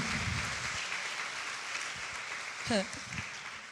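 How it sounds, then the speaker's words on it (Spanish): A Spanish-speaking church congregation applauds in honor of their pastor's life, a steady wash of clapping held at a moderate, somewhat distant level, with a brief voice cutting through near the end. "Dele fuerte el aplauso al Señor por la vida de nuestro pastor."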